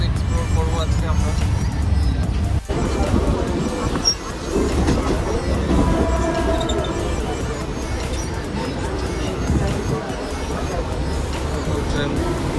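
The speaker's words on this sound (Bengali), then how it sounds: "মুম্বাই লোকাল ট্রেন এক্সপ্লোর করবো আজকে আমরা" A Mumbai local train running along the line, a continuous close rumble and rattle of wheels and carriages filling the whole stretch, with voices faintly mixed into the din.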